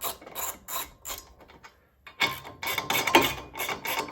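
Ratcheting wrench turns a 17 mm bolt on a Teraflex Hi-Lift jack mount, giving bursts of close, quick clicking with a short pause midway and no talking.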